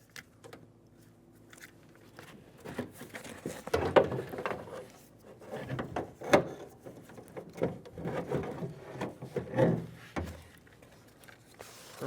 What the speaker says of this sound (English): Using a plastic trim tool, I'm going to pop the door handle off of the door.